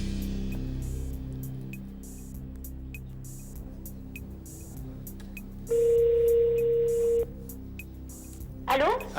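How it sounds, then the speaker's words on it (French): A telephone number is keyed in on a phone, giving a short series of dialing tones followed by a steady tone lasting over a second, with a faint hum and quiet talk in the background. "Nous demandons à la régie maintenant de faire le numéro de téléphone de ce notaire."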